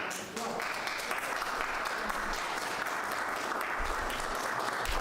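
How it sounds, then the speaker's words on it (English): Steady applause from a crowd at the inauguration of Joe Biden and Kamala Harris fills the whole stretch, dense clapping with some voices mixed in. "pause for applause"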